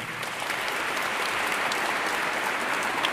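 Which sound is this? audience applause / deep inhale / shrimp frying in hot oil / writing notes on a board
audience applause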